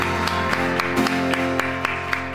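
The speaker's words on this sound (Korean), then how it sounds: "우리 주님 앞에 기쁨의 박수 올려드립니다" At a church worship service, a congregation claps in a steady rhythm over sustained music, the beats landing evenly about twice per second.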